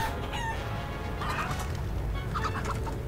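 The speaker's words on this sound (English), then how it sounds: "Wow, it's a chicken." A cartoon chicken in the Wallace & Gromit's Grand Adventures video game clucks in short bursts over a steady game background ambience, with no talk.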